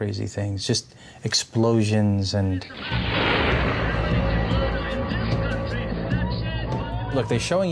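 A deep rumbling blast erupts and rolls on with crackling debris, heard through a playback, after someone talks over it at the start.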